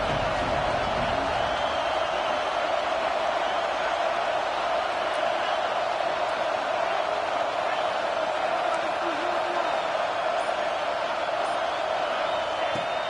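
A stadium crowd roars in the College Football 25 video game on a fourth down, a steady wash of crowd noise under continuous game commentary.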